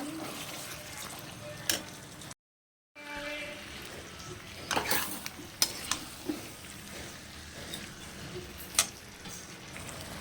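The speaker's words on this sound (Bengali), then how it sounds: "এবার একসাথে আলুর সাথে বরবটিগুলো আমি কষাতে থাকবো" Potatoes and cut yardlong beans sautéing together in a spiced pan give a steady frying sizzle. Intermittent spatula scrapes and clacks sound against it, with a short silent break near the start.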